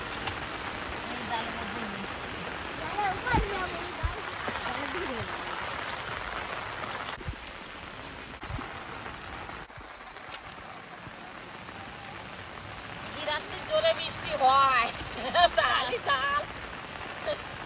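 Heavy rain hisses steadily on surfaces around a fishing spot where cast nets are being used, a constant wash of drops with occasional voices nearby.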